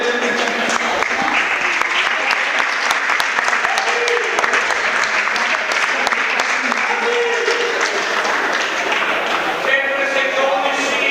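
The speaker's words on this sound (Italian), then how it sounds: "Ricordate che gli applausi sono gratis, quindi potete farne quanti volete." A crowd in a futsal arena breaks into loud, sustained applause that runs the whole stretch, dense and close, with talk mixed into the clapping.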